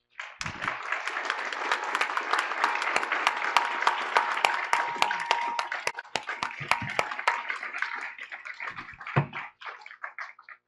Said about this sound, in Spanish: vamos a despedirlo a él como a los comentaristas, investigadores, con un fuerte aplauso.